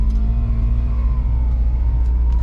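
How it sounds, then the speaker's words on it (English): A turbocharged convertible's exhaust rumbles at a steady, deep idle with a loud, throaty low drone and no clear rise in revs. "This exhaust sounds so bad."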